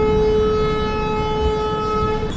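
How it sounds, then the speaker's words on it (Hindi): The Ranchi-Howrah Shatabdi Express departs Durgapur station at night, a loud sustained tonal horn-like drone over rumbling rail noise, steady throughout. "7:17 तुरंत गाड़ी खुल गई"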